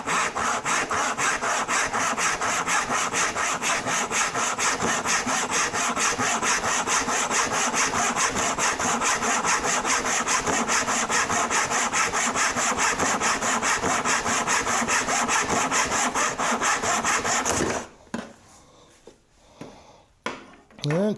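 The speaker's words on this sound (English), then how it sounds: "that allows me to do a cross cut with a back saw" A back saw cross-cuts wood held on a bench hook, steady rhythmic push-pull strokes up close for most of the time, then stopping near the end with a few quiet knocks and handling sounds.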